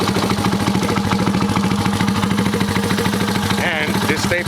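A Honda Dax CT70 clone minibike engine runs with a fast, steady, clattering putter close by, loud throughout, with a person talking over it near the end.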